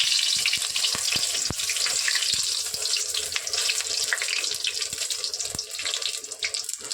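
Pumpkin flower fritters (bora) fry in oil in a pan over a low gas flame, giving a steady, close sizzle with scattered crackles and pops that continues without a break and with no talking.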